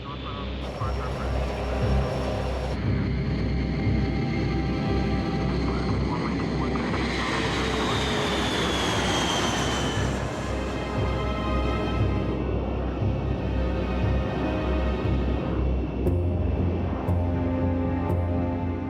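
A military plane flies steadily overhead, its droning engine noise loud and continuous throughout, with a brief rising whine midway and a spoken voice running over the top.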